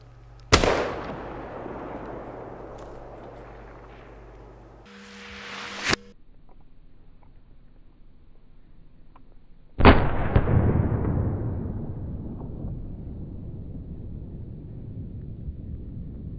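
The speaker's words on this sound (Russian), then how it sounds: "я буду делать выстрел, наверное" Rifle shots fired at a moose during a forest hunt: two sharp, loud cracks, one near the start and another about ten seconds later, each followed by a long rolling echo decaying through the woods, with a quieter thump in between.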